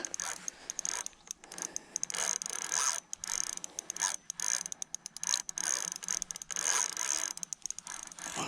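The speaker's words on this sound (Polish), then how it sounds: "Dociągam hamulec." A fishing reel's drag ratchet clicks in rapid bursts while a strong fish pulls line, with fast buzzing runs broken by short pauses, close and fairly loud.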